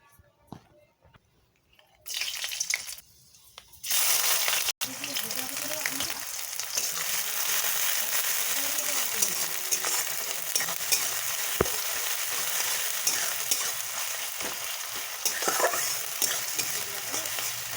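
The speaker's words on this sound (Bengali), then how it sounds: "ভালো করে পেঁয়াজটা প্রথমে ভেজে নেবেন, একটু লাল লাল হয়ে গেলে" Onions sizzling in hot oil in a pan, stirred continuously with a spatula, giving a steady close-up frying hiss with frequent scraping strokes after a brief quiet start.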